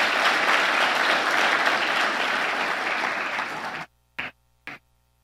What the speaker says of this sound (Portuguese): Dá até para aplaudir isso aqui, não dá não?